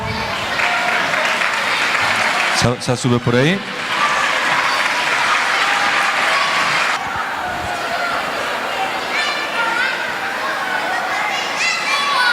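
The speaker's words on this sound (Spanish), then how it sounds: "Un aplauso." An audience at a Christmas karaoke night applauds as a singer comes up, loud sustained clapping and crowd noise with a voice briefly speaking over it and children audible in the mix.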